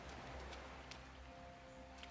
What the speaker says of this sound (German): So, aber es regnet.